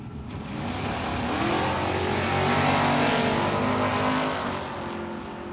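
A 1964 Chevelle and another drag car launching side by side down the strip at Tucson Dragway, a loud roaring engine surge that swells and holds, then eases as the cars pull away.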